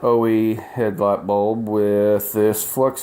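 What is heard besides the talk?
None of the usual background noises is heard.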